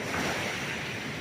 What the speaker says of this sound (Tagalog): Lakas ng alon, guys.